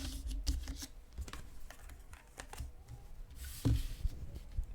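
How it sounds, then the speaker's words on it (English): Tarot cards being shuffled by hand, a soft, quiet papery riffling and patting that runs unevenly throughout, with scattered light taps and one slightly louder burst near the end. "we will continue shuffling for pile number 3"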